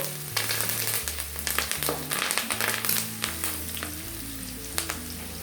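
Quarter teaspoon of turmeric powder frying in hot oil in a pan for avarekalu chitranna, a steady close sizzle with scraping stirs and light taps throughout, no talking.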